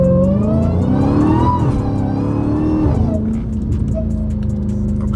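A Dodge Challenger Hellcat Redeye revs hard and accelerates on the street, its loud, close engine roar climbing in pitch, easing briefly, then pulling again.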